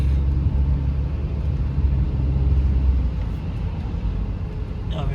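A car drives slowly through a snowstorm in New York, giving a steady low road rumble and engine drone close by that stays even throughout.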